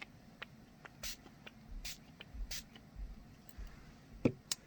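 Quick spritzes of dye-based Distress spray stain in the Shabby Shutters colour: several short, faint hissing bursts spaced out over a few seconds, with small handling clicks between them in a quiet room.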